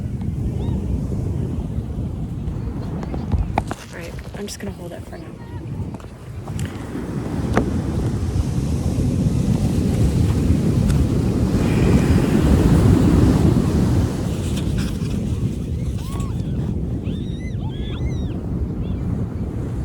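Ocean waves rolling in over a sandbar under gusting wind, a steady, loud roar of surf and buffeting wind noise with a person speaking briefly near the start.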